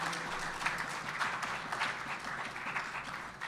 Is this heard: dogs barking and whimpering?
no